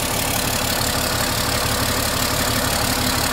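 The engine of an LMTV military truck idles at a steady, even rumble, with a dense continuous drone and a faint knocking texture that holds at the same loudness throughout.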